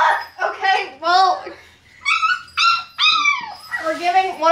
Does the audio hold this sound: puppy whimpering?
yes